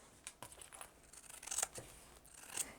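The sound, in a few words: scissors trimming fabric beside pocket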